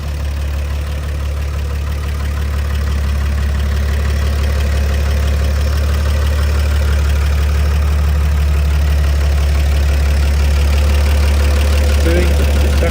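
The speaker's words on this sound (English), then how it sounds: "Straight six engine here, just idling away nicely." The straight-six engine of a 1953 Chevrolet 6100 flatbed truck idles smoothly, a loud, steady low rumble heard up close under the bonnet that swells slightly over the stretch.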